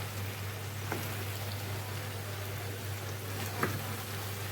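Shawarma meat and onions frying on a small grill, a steady close sizzle with a couple of faint clicks.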